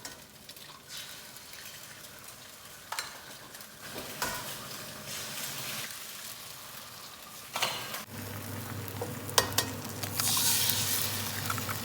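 Eggs frying in a hot pan: steady crackling sizzle throughout, with occasional clinks of a utensil against the pan, and a louder, denser hiss toward the end.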